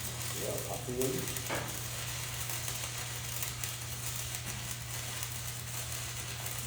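A welding arc in a welding class gives off a steady, dense crackling sizzle with a constant low hum beneath it, and a brief voice is heard near the start.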